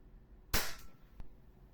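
An EMG PIT Viper airsoft gun fires a single sharp crack close by, followed by a short rattling tail and a faint click.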